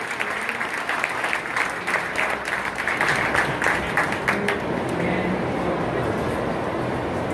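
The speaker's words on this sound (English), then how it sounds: "go ahead and give these guys a round of applause" An audience gives sustained applause for the kids in the market beef finals at the OC Fair, the clapping dense at first and then thinning and fading toward the end.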